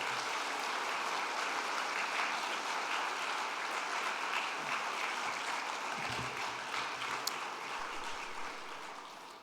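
A church congregation at a Sunday service applauds to welcome a missionary, steady dense clapping from a crowd heard at a moderate distance, continuing without talk.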